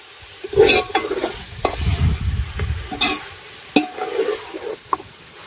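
Gongura chicken curry, half-cooked with sorrel leaves, is stirred in a pan over a light sizzle. A spoon makes loud, close scraping and clattering strokes in irregular bursts, and no one talks.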